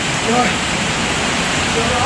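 Rain pelting down while driving up a mountain road near a district town, a steady, loud broadband wash of water and wind noise with no pauses across the short stretch.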